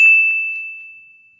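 Notification bell sound effect: a single bright, clear ding struck once, ringing out as a pure tone that fades slowly over more than a second, alone and fairly loud.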